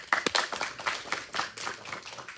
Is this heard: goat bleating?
no